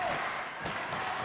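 A Bel Air crowd cheers through a high school volleyball game, a dense, unbroken roar of voices and clapping filling the whole moment.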